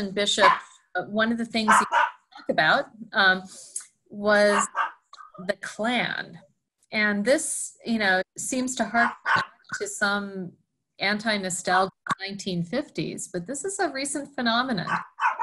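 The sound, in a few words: dog barking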